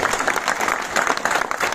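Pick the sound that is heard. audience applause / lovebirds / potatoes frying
audience applause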